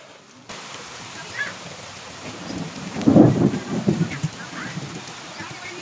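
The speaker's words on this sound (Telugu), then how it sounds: "ఇంకా వాతావరణం చల్లగా అయిపోయింది, వర్షం పడేది స్టార్ట్ అయింది." Rain pours steadily over a village during a thunderstorm, and a deep rumble of thunder swells partway through before rolling off beneath the hiss of falling water.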